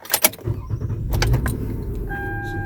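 A car being switched on during a starter diagnostic: a jangle of keys and a few clicks, then a low engine rumble that holds steady, with a thin electronic whine entering near the end.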